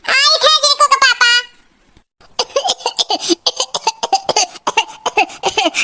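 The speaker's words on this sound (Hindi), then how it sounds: "अरे राम होता ना खांसी आवत है" A person coughs in a quick run of harsh voiced bursts close by, then plain talking follows after a brief pause.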